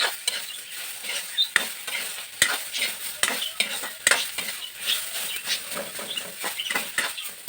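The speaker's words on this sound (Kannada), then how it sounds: "ಈ ರೀತಿ ಚೆನ್ನಾಗಿ ಫ್ರೈ ಆಗಬೇಕು ನೋಡಿ ಇವಾಗ ಇದು ಫ್ರೈ ಆಗಿದೆ" Stuffing masala for brinjal curry frying in a pan, a bright crackling sizzle punctuated by frequent sharp spatula scrapes and taps, close and continuous, with no talking.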